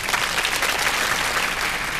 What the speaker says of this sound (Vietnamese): Một tràng vỗ tay nữa được không ạ?